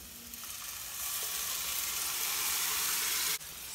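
Tomato sauce poured into a hot pan with softened onion sizzles loudly and grows into a broad steady hiss, then cuts off sharply near the end, with no voices.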